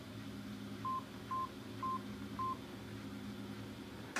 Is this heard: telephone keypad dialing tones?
yes